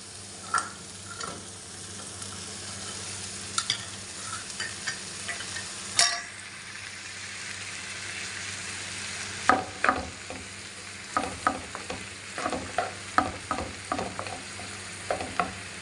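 Chicken fried rice sizzles steadily in a pan after soy sauce goes in, with repeated scraping and clinking stirs from a utensil growing busier toward the end.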